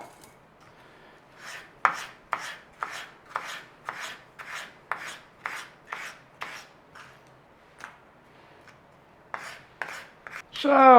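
Knife cutting sausage on a board for one-pan sausage fajitas, a steady run of about fifteen evenly spaced crisp chops, with a pause and a clatter at the end.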